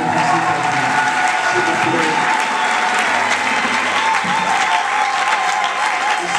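Crowd applauding at a political meeting: dense, steady clapping throughout, with faint voices and a sustained tone underneath.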